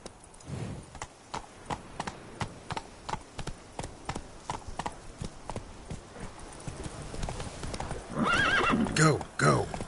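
Roach, a horse in The Witcher 3, gallops with rapid, regular hoofbeats close by, then whinnies loudly near the end.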